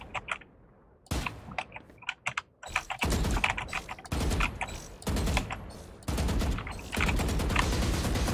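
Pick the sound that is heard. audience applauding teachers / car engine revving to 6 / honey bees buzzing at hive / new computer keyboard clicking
new computer keyboard clicking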